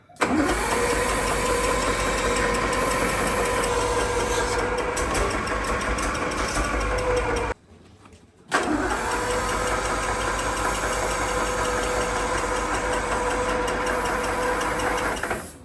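An old ute engine, unused for 15 years, runs at a steady, rattly idle close by, cutting out briefly for about a second before firing back up and idling on.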